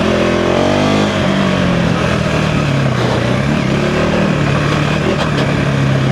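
A 2025 KTM 390 Enduro R motorcycle is ridden hard, its single-cylinder engine droning loud and close with shifting pitch as the bike accelerates and eases off.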